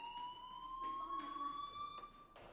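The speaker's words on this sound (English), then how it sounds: "Hey, do you hear that fire alarm?" Fire alarm ringing in the video game Life Is Strange, a steady high electronic tone held throughout with faint background sounds under it.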